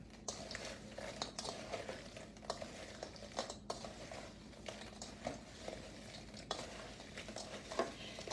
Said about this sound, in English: mix them up until they're coated with the butter and the ranch dressing mix